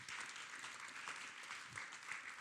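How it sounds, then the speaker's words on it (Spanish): Church congregation clapping in sustained applause, an even dense patter of many hands at moderate distance, fairly faint and steady throughout with no talk over it. "Dele un aplauso fuerte a nuestro Dios."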